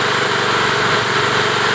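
A small engine on a wood gas battery charger running during break-in, producing a loud, steady, even drone with a constant buzzing hum and no talk.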